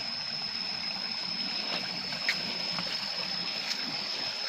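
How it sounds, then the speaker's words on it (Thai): Water flows in a steady, hissing rush, continuous and fairly close, with a faint high-pitched whine running through it. "ธรรมชาติเสียงน้ำไหลนะครับ"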